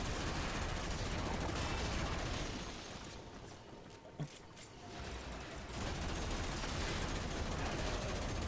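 Rapid gunfire from a weapon in the video game Warframe, a dense sustained burst that dips briefly mid-clip with a single sharp shot before resuming loud and continuous.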